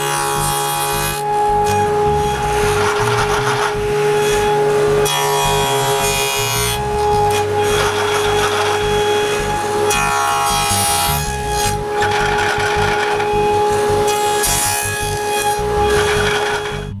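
Wood pieces taped together for intarsia book ends being cut by a power saw, a loud continuous buzzing, whining cut running steadily throughout with slight changes in pitch and intensity, no talking.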